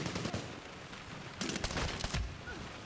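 Rapid bursts of automatic gunfire from a first-person shooter video game, two loud clusters of shots standing out over a softer background of distant firing.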